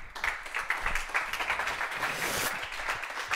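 Audience applause at a tech talk welcoming a guest from a university in Switzerland and Germany, dense steady clapping from a crowd throughout, moderately loud with no talk over it.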